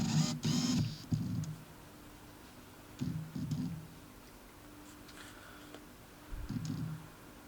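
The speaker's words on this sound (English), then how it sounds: "So let's unscrew this now if we can." Cap of a plastic-cement glue tube being unscrewed close up: several short bursts of gritty creaking and clicking twists separated by pauses, set against quiet background.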